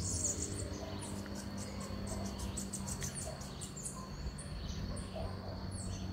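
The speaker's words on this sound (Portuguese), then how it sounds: "Onde os pássaros estão amanhecendo, cantando." Birds chirp and twitter faintly among trees at dawn, high calls scattered over a steady low outdoor hum with no talking.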